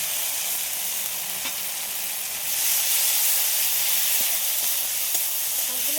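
Ground spice paste with dried red chilli, cumin and pepper sizzles in a hot pan, a steady close hiss that swells louder partway through, with faint stirring taps.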